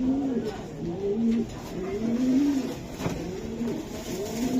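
A racing pigeon coos up close in a soft, repeated rolling pattern, with faint talk in the background.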